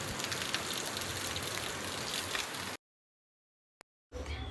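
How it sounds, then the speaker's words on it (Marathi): Heavy rain pours down at night in a dense, loud, unbroken hiss that cuts off abruptly to silence, followed by a brief click before the downpour returns. "आणि खूप जास्त पाऊस आणि त्याचा आवाज, खूप जास्त भीती वाटते."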